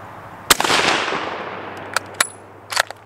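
A single sharp rifle shot from a 30-40 Krag Model 1896 cracks loudly outdoors and rolls into a long echoing tail, followed by a couple of fainter distant knocks.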